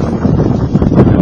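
Strong wind buffeting the microphone outdoors at a paragliding festival in the Hautes-Pyrénées, a loud, continuous rumbling roar with no break.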